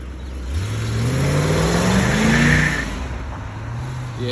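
A 1987 Corvette accelerates away, its engine revving up in a rising pitch sweep, then easing off before picking up again, close and loud with no talking.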